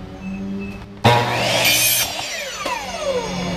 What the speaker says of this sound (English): Okay, so we are now going to cut a 2-inch piece.